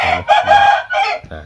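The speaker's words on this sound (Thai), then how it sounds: "เสียงไก่ขันด้วยนะครับ ไก่เยอะตรงนี้นะครับ" A rooster crows several times outdoors in a spot crowded with chickens and ducks; the loud, close calls rise and stretch in long harmonic phrases, closing with a shorter final call.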